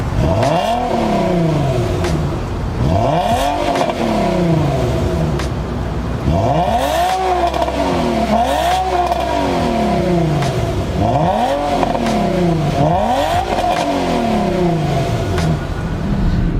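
A 2009 Infiniti FX35 with a naturally aspirated VQ35HR V6 accelerates repeatedly while driving, engine revs rising and falling in about six distinct sweeps, loud and close with a steady cabin hum underneath and no talking.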